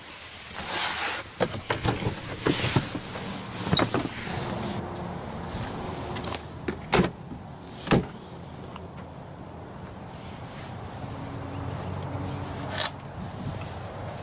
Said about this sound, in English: Power folding third row seats.